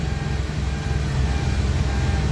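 A Kia Rio engine, with its intake cam timing just corrected, runs steadily while driving on the road, a low continuous hum without breaks.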